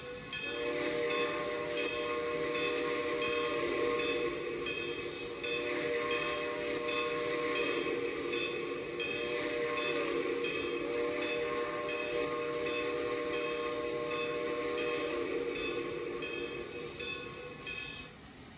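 A Southern Pacific P10 4-6-2 Pacific steam locomotive whistle from the Trainz railway simulator sounds as a long, steady chime blast held for many seconds, then a second sustained blast, loud and close with no talk.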